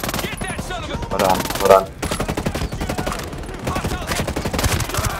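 Rapid automatic gunfire in a Tom Clancy's Ghost Recon Breakpoint firefight, dense bursts rattling almost continuously with brief gaps, loud and close, with a player's voice over it.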